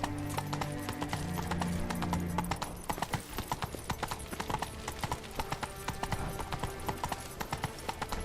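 Roach the horse's hooves from The Witcher 3: Blood and Wine, a steady clip-clop of hoofbeats in an even trotting rhythm, close and clear, with a low rumble underneath in the first seconds.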